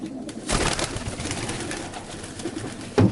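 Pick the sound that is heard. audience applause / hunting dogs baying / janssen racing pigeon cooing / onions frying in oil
janssen racing pigeon cooing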